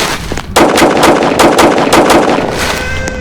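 Rapid bursts of shotgun gunfire in a Roblox hood roleplay game, loud and close, firing in a quick uneven rhythm for about three seconds with no talk over it.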